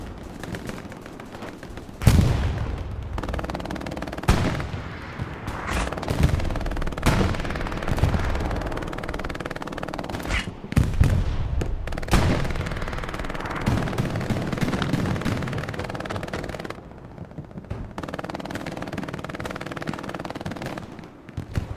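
Machine guns and rifles rattle in Hell Let Loose at Utah Beach, where an MG fires from a house down into Chapel: loud, dense overlapping bursts and single cracks that keep going without a break.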